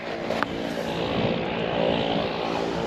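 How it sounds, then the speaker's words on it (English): A propeller airplane takes off from Green Lake in Whistler, heard as a steady, fairly loud engine drone that holds for a few seconds and slightly swells. "there is a airplane about to take off"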